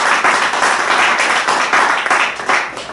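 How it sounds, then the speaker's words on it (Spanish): Church congregation clapping together in sustained applause, a dense, steady wash of many hands that holds for about three seconds with small swells and no break. "vamos a darle gloria a Dios por un aplauso también"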